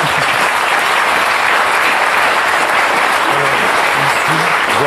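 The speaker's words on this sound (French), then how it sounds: "Faut les applaudir." Dense, steady applause from a studio audience at a French interview show fills the whole stretch, loud and unbroken.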